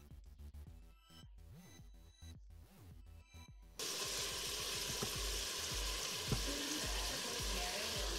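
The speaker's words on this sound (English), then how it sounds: "Ground beef goes in. And we're just gonna saute this for a few minutes." Ground beef sautéing in an Instant Pot for chili: a quiet start, then the meat drops in and a loud, steady sizzle takes over, with scraping stirs in the close foreground.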